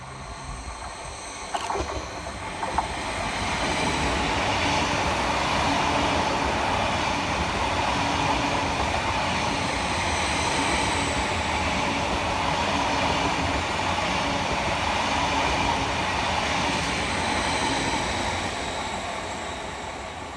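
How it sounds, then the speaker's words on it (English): A Greater Anglia class 745 electric multiple unit runs through a station on a Stansted Airport to London Liverpool Street service, giving a steady, loud rolling roar with faint wheel clatter that holds for about twenty seconds before easing slightly. "Next passing through the station will be 745-104, working 1 Bravo 29 for Greater Anglia from Stansted Airport through to London Liverpool Street"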